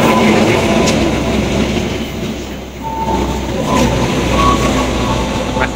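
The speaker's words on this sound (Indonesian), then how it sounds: "Dwi Pangga melintas langsung stasiun Tambun." Dwipangga train passing straight through Tambun station without stopping, a loud continuous rumble of wheels and carriages with faint clicking, close by and steady throughout.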